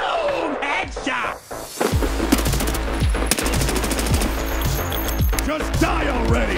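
Rapid automatic gunfire in the shooter game Escape from Tarkov, close and loud, with sustained bursts of sharp cracks and a few pauses between volleys.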